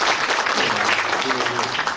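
An audience at a regional education development forum applauds, a dense burst of many hands clapping steadily in a hall, loud and sustained for a couple of seconds.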